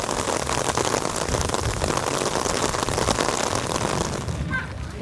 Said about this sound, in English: It's still raining. It's lightening up a little bit.